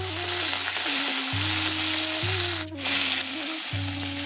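Chana dal, dried red chillies and curry leaves fry in hot oil for kara kozhukattai, a loud continuous sizzle over a low steady hum that steps on and off, with one short break near the end.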